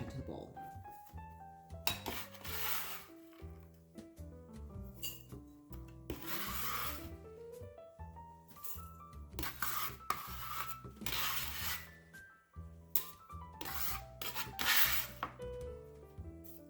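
Kitchen scraper scraping crumbled keto cornbread in a bowl: repeated short rasping scrapes and dull knocks in irregular rhythm, close and fairly quiet, against soft background music.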